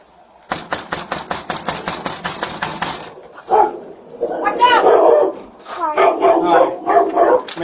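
A dog barks in a rapid, steady run of loud, close barks, then yelps and whimpers as voices talk over it, heard during a police call at a family home.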